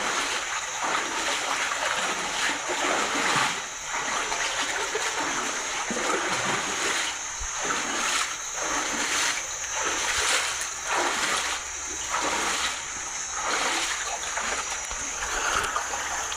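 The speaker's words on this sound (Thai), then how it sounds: "เป็นเหมือนกับน้ำตกเลยนะฮะน่าสนใจทีเดียว" Water spilling like a small waterfall over rocks in a narrow canyon near Khao Tai, Chumphon, a continuous close splashing rush with repeated surging pulses throughout, with no voices over it.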